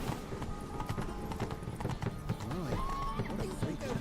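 Steady clip-clop of a horse's hooves in the Witcher 3 video game, a continuous rhythmic trot under background game music and ambience, with someone talking over it.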